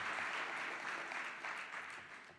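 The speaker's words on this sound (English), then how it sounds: "Let's give them all a great round of applause, everybody." Audience applause for pastors at a church gathering, a soft, steady wash of clapping heard from a distance that gradually tapers off.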